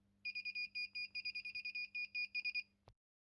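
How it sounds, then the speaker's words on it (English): A small buzzer on a DIY motor speed controller board beeps Morse code in a rapid sequence of short and long high-pitched tones, ending with a sharp click. "The Morse code sound comes from the little buzzer which I also connected to the board"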